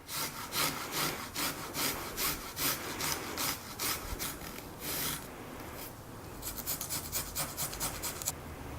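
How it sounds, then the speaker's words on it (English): Garlic rubbed briskly across a Microplane grater, a close, steady rhythm of rasping strokes that turn lighter and quicker toward the end. "One of my favorite things to do is to grate garlic using a microplane."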